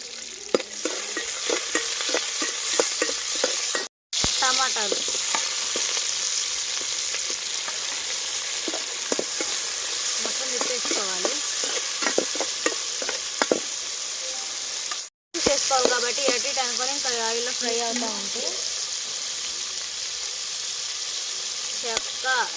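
Green chillies and curry leaves sizzle loudly in a pan for a coriander-mint pulao, with a steady frying hiss broken by repeated scraping stirs of a spoon, continuing for a long stretch.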